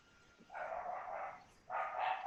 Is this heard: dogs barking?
yes